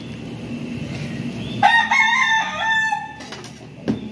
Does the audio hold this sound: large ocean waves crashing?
no